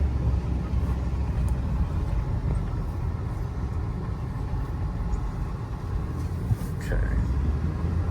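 A 4x4 Ford F550 bucket truck with a 6.7 liter diesel engine, a steady low rumble heard from inside the cab as it moves off, with a brief spoken word over it.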